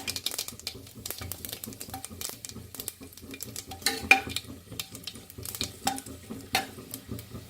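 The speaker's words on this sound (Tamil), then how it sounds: "கடுகு நல்லா பொரிஞ்சிடுச்சு இப்போ நம்ம எடுத்து வச்ச காஞ்சி மிளகாவும் சேர்த்துக்கலாம்" Mustard seeds and dried red chillies fry in hot oil, giving scattered sharp pops and crackles over a soft sizzle, with occasional clinks of a utensil against the pan.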